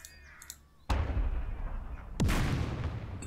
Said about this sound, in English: So, start with machine guns,